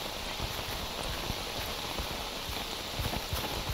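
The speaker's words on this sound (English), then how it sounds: "Again, it's raining" Steady rain hisses without a break through the STALKER Anomaly video game world, a dense, even wash of drops that fills the whole scene with no voices.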